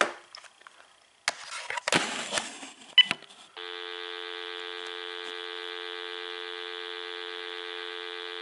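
A steady continuous dial tone sounds from an AT&T 9357 telephone handset, preceded by handling clicks and rustling as the receiver is lifted, then holds evenly at moderate level.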